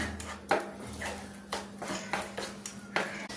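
Spoon scraping and clinking against a bowl while cheese slices and chicken filling are stirred together, a series of irregular close taps and scrapes over a low steady hum.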